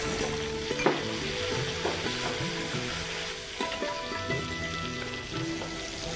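Spices and tomatoes sizzle and fry steadily in hot oil while tempering for panchmel khichdi, with a continuous crackling hiss and occasional stirring scrapes, close and loud, and no voices.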